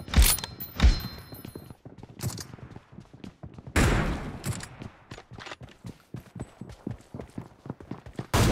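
Gunfire crackles through a video game room fight as sharp, scattered shots and short bursts, some loud and close and others quicker and fainter, arriving in an irregular rhythm with no voices.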